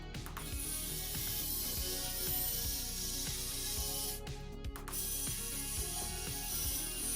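Small 5-volt motor drives a miniature sliding door on a diorama, giving a faint, fast, ratcheting whir with rapid clicks and a steady hiss, broken by one brief dip midway.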